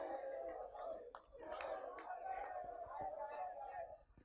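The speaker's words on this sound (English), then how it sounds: "Apparently we need to cheer a little more quietly." Group of people cheering and shouting together during a conflict-resolution learning game indoors, a lively mass of overlapping voices at moderate level for a few seconds before quieting.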